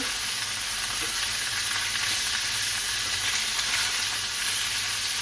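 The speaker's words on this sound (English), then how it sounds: "Flip them over because we're going to sear the other side too." Chicken pieces sear in a hot pan while bacon chicken cooks, giving a loud, continuous, even sizzle and hiss that runs unbroken from start to finish with no talking.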